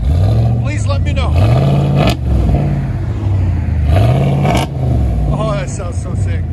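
A 2020 Ram 2500 pickup with a 6.4L Hemi V8 and Dynomax Race Bullet exhaust revs loudly up close, two rising throttle blips over a deep idle rumble.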